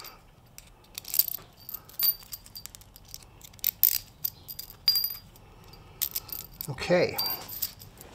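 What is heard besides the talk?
metal washers being handled and clinking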